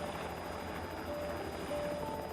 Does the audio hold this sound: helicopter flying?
yes